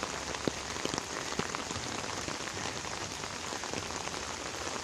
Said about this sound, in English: It is the third monsoon rain of the day.